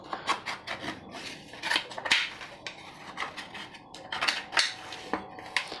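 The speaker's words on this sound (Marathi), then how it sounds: "आता आपण त्याला चारी बाजूंनी पहिले कट करून घ्यायचं आहे असं" A knife scraping around the edges of a cooled semolina and wheat flour cake in its metal tin, rhythmic close rasping strokes with small metallic clicks against the pan.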